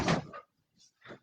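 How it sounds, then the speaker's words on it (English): A door being opened indoors, with a fuller close handling noise at the start followed by two softer, brief knocks or latch sounds after a short pause. "Let me open this door for"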